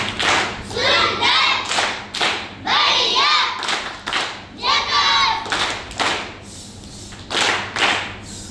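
A group claps together in rhythmic bursts at a child's birthday celebration at home. Thumps and children's chanting voices mix in, and the clapping fades toward the end.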